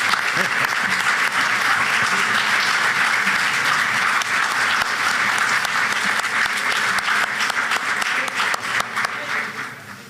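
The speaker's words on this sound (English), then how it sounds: "Thank you for your applause." Steady, dense applause from a large crowd at a university board of supervisors meeting, loud and continuous, tapering slightly toward the end.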